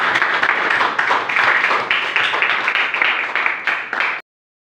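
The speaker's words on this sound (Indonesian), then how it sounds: "Tepuk tangan Ervan dulu." Students in a classroom clap for a classmate, a brief, loud burst of fairly even group applause lasting about four seconds before stopping abruptly.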